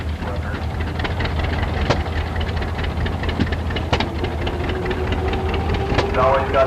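An old Model D tractor engine runs at an early-day tractor and engine show. It gives a steady, close, knocking chug with scattered clanks, and faint crowd noise and background talk sit underneath.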